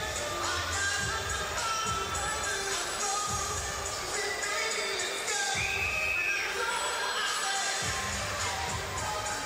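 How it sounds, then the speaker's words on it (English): Crowd murmur fills the Bell Center arena during a professional boxing bout, a steady, fairly faint wash of many voices and distant chatter with occasional brief swells, no single voice standing out. "Good crowd filling in here at the Bell Center."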